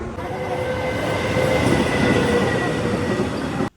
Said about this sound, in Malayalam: ഇപ്പോൾ ട്രെയിൻ വന്നുകൊണ്ട് ക്രോസ് ചെയ്തിട്ടേക്കണേണ്.